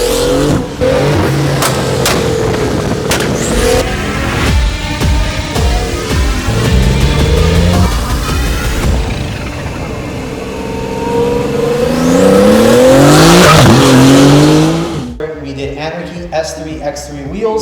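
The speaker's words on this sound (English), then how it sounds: "this is a Porsche 992 Turbo S, and we did the full TechArt body kit." A Porsche 992 Turbo S with a TechArt body kit, H&R lowering springs and an IPE performance exhaust revs loudly and close, engine pitch climbing and falling in sweeps, while a voice talks over it.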